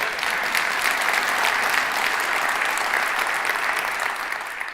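Audience applause at a city's state of the city address, a dense, even round of clapping from a large crowd that holds steady and eases slightly as it ends.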